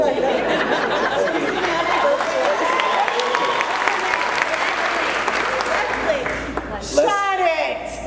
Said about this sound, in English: Everywhere I turn, there's applause.